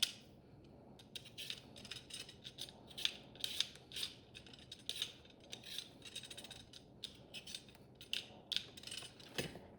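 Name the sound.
potato being peeled with a vegetable peeler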